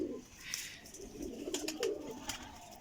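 Large Rampuri pigeons coo in soft, low, repeated phrases close by, quiet under faint background noise, with sharper high bird chirps dotted through the stretch.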